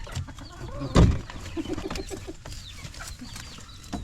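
Pet chickens cluck and chirp while being fed, with a sharp burst of noise near the start and scattered bird calls throughout, close and moderately loud.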